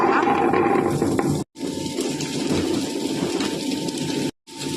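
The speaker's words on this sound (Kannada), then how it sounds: "ಇದೆಲ್ಲವನ್ನು ಗ್ಲೈಂಡರಲ್ಲಿ ರುಬ್ಬಿಕೊಳ್ಳುವ ನುಣ್ಣಗೆ." A mixer grinder grinds coconut masala for an Udupi-style prawn curry, a loud, steady whirring roar that cuts out twice for a moment before running on.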